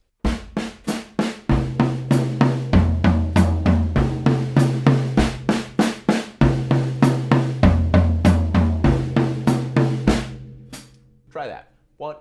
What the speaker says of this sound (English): So we're going to go into alternating strokes, one on each hand, just moving around the toms with our feet walking along.